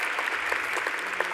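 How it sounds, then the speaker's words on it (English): Brief round of applause for medical graduates at a Faculty of Medicine graduation ceremony, a dense patter of many hands clapping at steady volume throughout. "Please join me in a round of applause for the graduates."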